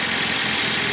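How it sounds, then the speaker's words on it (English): A car engine idles steadily on fuel vapors drawn from the carburetor float bowl, with no liquid fuel flowing from the bowl. It gives a continuous, close, even rumble for under a second, with no voices. "I'm going to show you how that the vehicle can actually idle on the vapors from the float bowl."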